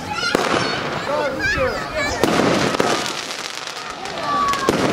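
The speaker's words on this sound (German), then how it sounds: "es ist eine 10-Schuss-Palmeffekt-Batterie. Mächtige und soundstarke Crackling-Palme mit blauer, roter und grüner Spitze." A Miami Knights 10-shot crackling palm firework battery with blue, red and green tips fires in alternation, loud bursts and dense crackling close by, with a voice briefly heard over it.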